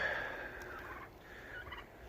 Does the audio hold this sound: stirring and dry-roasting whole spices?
no